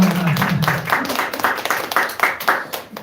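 A church congregation at a Sunday morning service breaks into loud, close applause that settles into a rhythmic clapping pattern, with a brief low voice at the start.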